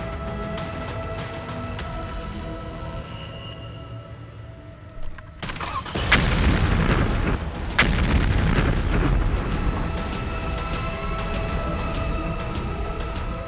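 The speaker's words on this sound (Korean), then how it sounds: "하늘이 무너질 듯한 경운과 함께 차량이 폭발했습니다" A Grandeur sedan parked in a garage in front of an inn in Suncheon explodes with a loud, abrupt boom partway through, followed by sustained roaring, crackling noise after a quieter rumbling stretch.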